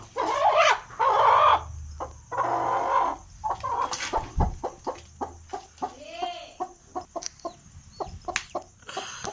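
A hen clucks repeatedly at close range, short throaty notes in an uneven rhythm, with a few louder drawn-out squawks early on.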